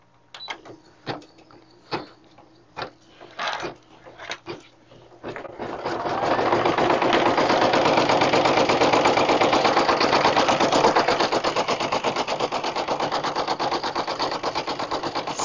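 A Brother PE 770 embroidery machine stitches a tack-down outline on an in-the-hoop Christmas banner. A few separate mechanical clicks and thumps lead into a loud, steady, rapid needle rattle that continues to the end.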